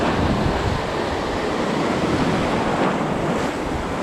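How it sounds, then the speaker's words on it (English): Surf rolls and breaks steadily along the Gulf beach near Galveston while someone wade fishes, a constant loud wash of waves with wind buffeting the microphone and no voices. "Show you after this wave."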